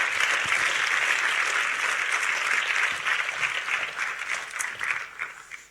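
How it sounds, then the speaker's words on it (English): An audience claps for a team at a talk on films and social justice, a dense, steady round of applause that thins and fades out toward the end. "really a huge round of applause for this fantastic team"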